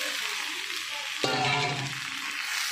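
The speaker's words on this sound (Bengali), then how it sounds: "মশলার সঙ্গে আলু ফুলকপিটা ভালো করে মিশিয়ে নিচ্ছি।" Potatoes and cauliflower stirred with spices in hot oil for a yellow cauliflower curry, a steady sizzle that jumps into a louder hiss and crackle partway through as the pieces are turned, no voices.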